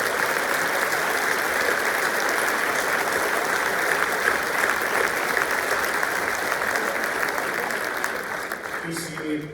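A large congress audience at a union confederal congress applauds in a sustained, even wash of clapping from a big hall, steady for nearly ten seconds before easing slightly at the close.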